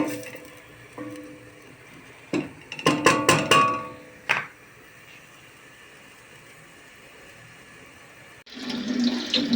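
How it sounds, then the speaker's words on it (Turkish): Frozen fava beans rinsed under a running kitchen tap, with a burst of splashing and clattering early on, a quieter stretch, then a steady rush of water returning loudly near the end. "dondurucudan çıkardığım baklalarımı şöyle bir güzel yıkıyorum"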